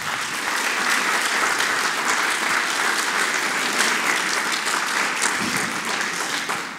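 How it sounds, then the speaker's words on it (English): An audience gives a round of applause for panelists at a Southern Nevada community event, a dense, steady wash of clapping that holds level throughout. "I would love to give another round of applause to our panelists tonight"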